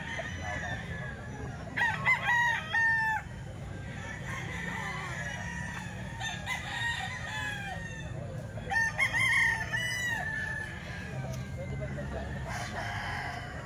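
A young bull stag rooster crows at a Philippine cockfighting farm, two clear crows standing out over steady background farm noise, with no talking heard.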